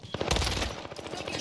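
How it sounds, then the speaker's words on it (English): Rapid gunfire in the Warzone video game, a dense burst of loud, close shots rattling in quick succession for over a second. "Taking shots here."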